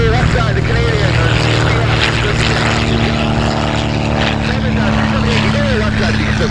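Amphibious planes departing at EAA AirVenture Oshkosh, a loud continuous propeller and engine drone that stays steady and close throughout, with radio or voice chatter running over it.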